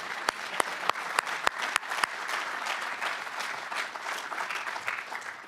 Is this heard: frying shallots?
no